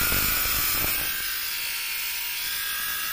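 A battery-powered fabric lint remover runs steadily, giving a continuous high-pitched motor whir and buzz, close and fairly loud throughout with no voices.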